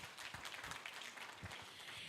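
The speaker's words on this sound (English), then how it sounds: "Please give him a big round of applause." Faint applause from an audience at a formal commerce event, a soft wash of clapping that continues evenly through the short stretch without any voices on top.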